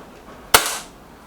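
A single sharp shot from an EB Arms XV2 air rifle fired at a target card, one loud close crack with a short decaying tail against quiet background.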